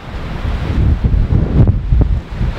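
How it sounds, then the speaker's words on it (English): Heavy wind during a storm buffeting a microphone fitted with a cheap deadcat windscreen, a constant low rumbling roar with gusty surges, no voices. "It is really windy out here."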